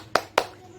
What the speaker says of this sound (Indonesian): alangkah baiknya kita tepuk semangat